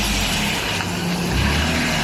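A Lexus IS300 with a manual swap has its engine revved hard to get moving, a steady loud low drone that rises slightly toward the end, close and continuous.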